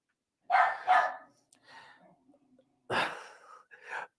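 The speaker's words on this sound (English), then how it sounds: "the dog is losing her fucking mind" A pet dog barks indoors in two clusters: a double bark, a pause with softer sounds, then another loud bark and a shorter one, all close.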